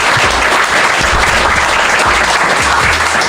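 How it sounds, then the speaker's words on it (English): Loud, dense applause from a live podcast audience in London, continuous and close for the whole few seconds. "Round of applause to JP."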